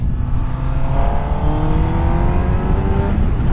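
A 2017 Honda CBR1000RR motorcycle engine winding down through the revs in sixth gear, a steady falling drone with gradually descending tones, loud and close with rushing wind throughout.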